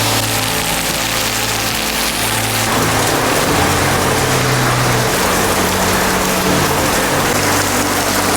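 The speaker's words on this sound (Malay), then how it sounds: "Hujan lebat, guys." Heavy rain pours down at a bicycle parking area near a bazaar in Singapore, a loud, dense continuous hiss with a low rumble underneath, steady throughout with no voices.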